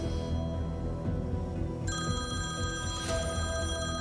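A mobile phone rings with a synthetic electronic ringtone, its pattern shifting partway through, under a steady bed of background music, with no talk.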